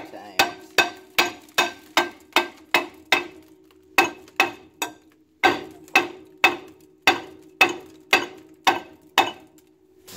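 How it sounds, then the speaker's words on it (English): A 5-pound sledgehammer strikes a stuck brake rotor on a 2001 Suzuki Grand Vitara XL7 again and again, making sharp metallic clanks at a steady rhythm with a short pause partway through. Each blow rings briefly, close and loud. "take a 5-pound sledgehammer and just kind of hit around it a few times."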